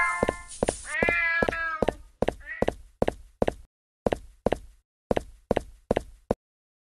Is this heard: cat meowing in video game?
yes